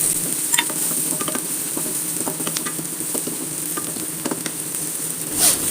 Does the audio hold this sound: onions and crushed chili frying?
yes